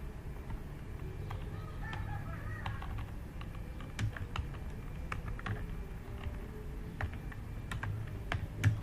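Computer keyboard typing, soft and scattered, with irregular keystrokes over a steady low background hum and no talk.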